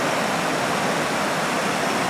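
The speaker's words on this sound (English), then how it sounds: "You can see it's like we have a small waterfall there." A small waterfall in a flooded channel gives a loud, steady broadband rush of falling water, constant and close with no other sounds.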